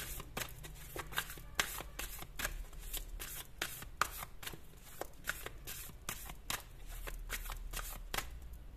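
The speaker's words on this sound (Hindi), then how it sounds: "कार्ड्स मैं आपके सामने ही शफल करके निकालने वाली हूं" Tarot cards being shuffled by hand, a rapid series of crisp riffling flicks and slaps repeating in bursts, close and clear with no talking.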